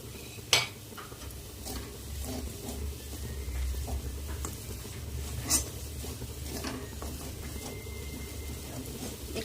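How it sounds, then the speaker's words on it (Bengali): Nuts are stirred in a pan with salt, turmeric and sugar, giving soft scraping and a quiet sizzle, with a couple of sharper clinks of the utensil against the pan. "এটা দিয়ে একটু নাড়াচাড়া করে নেব।"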